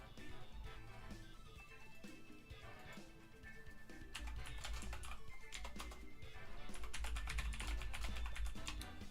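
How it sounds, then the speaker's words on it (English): Rapid typing on a computer keyboard, dense clattering keystrokes close to the microphone that grow faster and louder in bursts. "Oh, I don't know why I'm typing."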